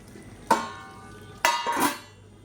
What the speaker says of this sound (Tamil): இப்போ நான் மறுபடியும் மூடி வச்சிடுறேன்.